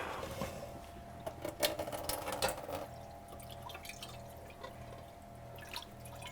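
Water drains off Iranian rice during cooking, a quiet, uneven trickle and splashing that is busier at first and then thins to a soft, steady wash.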